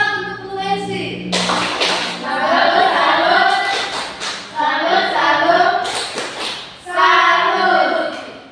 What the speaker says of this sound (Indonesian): Tepuk salut untuk Bu Lensi.